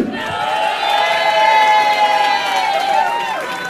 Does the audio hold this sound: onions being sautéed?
no